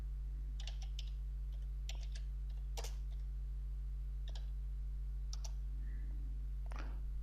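Fingers type a short search query on a computer keyboard, giving scattered bursts of crisp clicks and taps over a constant low electrical hum.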